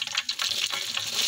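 Curry leaves hit hot oil in a pan for a home-cooked pulao, giving a short, close burst of crackling sizzle and spitting.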